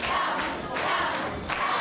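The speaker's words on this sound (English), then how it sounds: "You guys can cheer him on, and help him out." A studio audience cheers and shouts encouragement for a contestant during a timed two-minute challenge on an educational TV game show, a loud, continuous crowd roar with rising swells.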